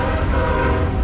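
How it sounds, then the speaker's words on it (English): A train rolls past close by, with its horn blowing loud and steady over the rumble of the cars. "Here comes a choo-choo train."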